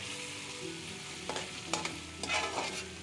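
Whole spices frying in oil in a pan for chana pulao, a soft steady sizzle broken by a few scraping stirs of a spoon, fairly quiet and without talk.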